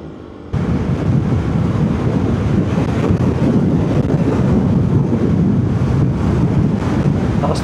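Strong wind buffets the microphone on an outdoor ride in Jalajala with heavy, continuous rumbling gusts after an abrupt start.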